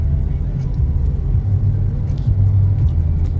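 A Honda City sedan cruises along a road, its engine and tyre noise forming a steady, loud low rumble throughout with no break.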